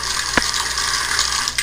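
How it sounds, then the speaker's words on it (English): Steady rush of water flowing from a household tap after a hot water heater element replacement, a smooth continuous stream with a couple of brief splashy bursts, close and fairly loud. "Turn it back on again, just to make sure the water flow is smooth."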